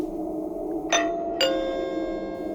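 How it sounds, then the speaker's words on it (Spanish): A doorbell rings inside an apartment with two bright chimes about half a second apart, heard over a steady background hum. "fue entonces que sonó el timbre"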